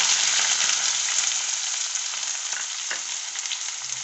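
Onions sizzle in hot oil in a pan as a steady, close frying hiss, with a few brief stirring scrapes and pops partway through.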